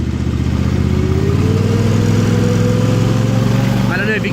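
A 2016 John Deere X570 lawn and garden tractor drives along, its engine droning loud and steady throughout, with a slight rise in pitch partway through and a brief clatter near the end.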